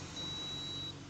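A washing machine timer gives one faint, steady electronic beep lasting under a second over a low background hum.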